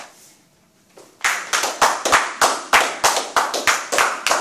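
A church congregation claps in acclamation of Jesus, starting after a quiet second and settling into a steady rhythmic beat of loud, close sharp claps with no talk.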